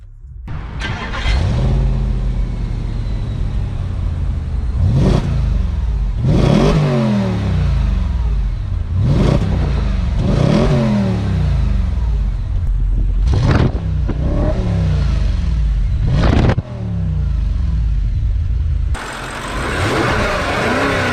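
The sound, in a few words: Audi RS5 V8 Quattro engine starting and revving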